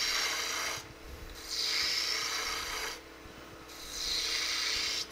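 Rasping file strokes shaping the bottom of a repaired Harbor Freight F-style clamp, tapering toward the threaded bar; two long, steady strokes of filing with brief pauses between, close and fairly loud.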